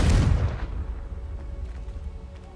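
Confringo blasting spell explosion in the video game Hogwarts Legacy, one loud close boom that trails off into a fading rumble over about two seconds.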